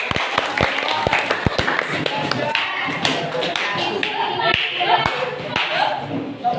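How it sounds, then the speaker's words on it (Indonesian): An audience in a classroom session claps, a dense rattle of hands with a few sharp individual claps and taps standing out near the start, fairly loud with voices mixed in. "Terima kasih tepuk tangan."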